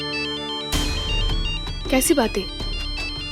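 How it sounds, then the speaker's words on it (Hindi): A mobile phone ringtone repeats in a steady tonal pattern through the whole clip, with someone talking over it from the start. "तुम फोन क्यों नहीं उठा रही हो?"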